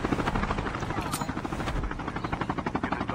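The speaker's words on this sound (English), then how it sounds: "Coming, chopper, coming." A helicopter in the Call of Duty Mobile battle royale Blackout map thumps with a steady rotor pulse and engine whine, loud and continuous throughout.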